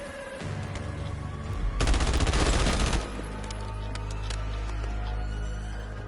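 Pistol gunfire in the Black Ops 7 video game crackles as a dense, loud burst of rapid shots lasting about a second, set against steady game background noise.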